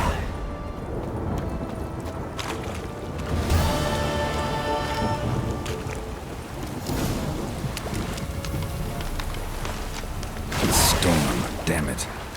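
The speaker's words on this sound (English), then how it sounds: "Storm, damn it." Heavy rain pours steadily in a thunderstorm in The Witcher 3, with rumbling thunder swelling around the middle and a sharp crack near the end, loud and continuous, with speech faintly underneath.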